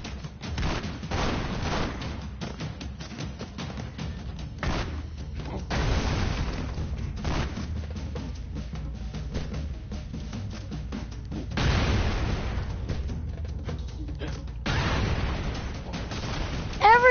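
Repeated booming explosions and crackling gunfire in the game Broforce, several heavy blasts spaced every few seconds over a dense rattle of shots, loud and continuous.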